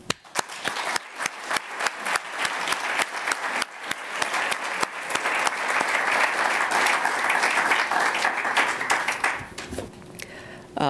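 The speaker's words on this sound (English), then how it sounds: "I'd like to give a great round of applause to everyone who presented today." An audience at an oral health symposium applauds. The clapping starts as scattered claps and swells into steady, full applause before fading out.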